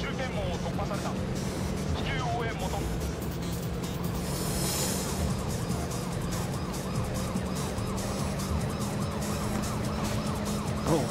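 A police car siren wails in the driving game THE 逃走ハイウェイ, repeating rising-and-falling sweeps over steady engine and road noise, with someone talking throughout.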